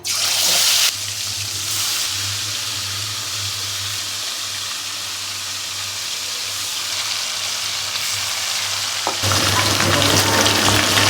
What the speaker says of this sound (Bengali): এখন আমি এভাবে মশলা থেকে সারিয়ে সারিয়ে হালকা করে চিকেনগুলো ভেজে নেব।